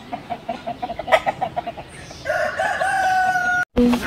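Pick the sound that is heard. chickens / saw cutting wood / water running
chickens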